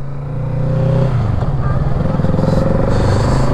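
A new learner motorcycle pulls away nearby, its engine note rising from idle into a steady, throbbing run with some clatter, loud and without talk.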